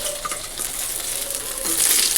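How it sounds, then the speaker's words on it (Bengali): Dal being tempered in hot oil left over from frying eggplant, a soft steady sizzle with light crackling and faint stirring, close and fairly quiet. "তারপরে এই তেলের মধ্যে ডালটা ফোড়ন দিয়ে দেবো"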